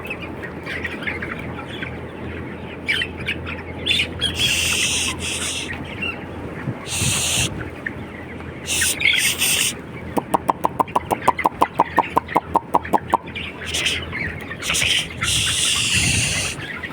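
Chickens cluck and squawk throughout a poultry house, a dense close flock with frequent bursts of calls over a steady ventilation hum, plus a brief run of rapid clicking midway.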